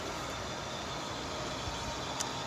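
Constant low roar of distant traffic on Highway 50, a steady wash of passing vehicles with no voices.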